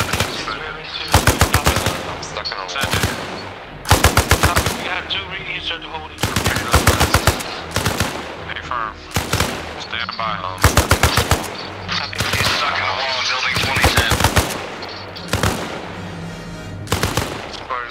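Sustained automatic machine gun fire in a military shooter game, coming in repeated loud bursts of rapid shots separated by short pauses, with voices shouting over the battle.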